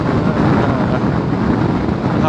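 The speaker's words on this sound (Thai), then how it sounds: "โอ้นี่ลมแรงนะฮะ" Strong wind roaring over the microphone while riding a Honda Forza 300 scooter on the road, a dense, loud, continuous buffeting rush that fills the whole stretch.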